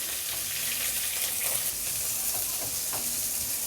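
Chopped big onions fry for poha in a hot pan, giving a loud, steady sizzle with soft crackling throughout and no talking.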